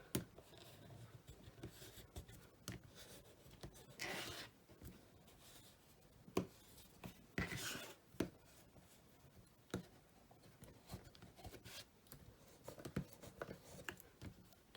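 A bone folder presses and creases a paper booklet, giving faint scattered rubs, scrapes and soft paper taps up close at an uneven pace, with no talk.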